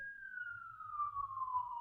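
An ambulance siren passing outside, a single steady tone slowly sliding lower as it moves away, faint and distant behind a quiet low rumble.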